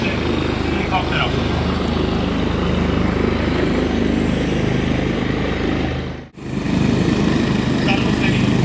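Medical rescue helicopter at a landing during a traffic collision emergency exercise, its rotor and engine roaring steadily and loudly close by, with a brief dip in the noise before it swells again.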